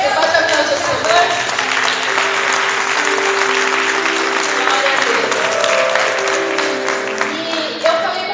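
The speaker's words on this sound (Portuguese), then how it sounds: "Você pode aplaudir o Senhor?" Worship congregation applauding loudly and steadily for several seconds, a dense wash of clapping that fills the room, with a voice speaking briefly over it near the start.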